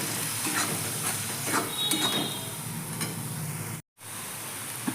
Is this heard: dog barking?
no